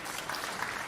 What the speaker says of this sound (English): You can clap about that all you want.